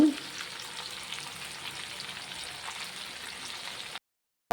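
Chicken lollipop kababs fry in hot oil on a high flame with a dense, steady sizzle and crackle, close and even throughout before cutting to silence.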